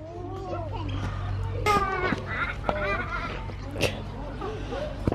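Ducks quack in a noisy outdoor scene, several nasal calls rising and falling over steady background hum, with children and adults chattering and a voice imitating the quacks.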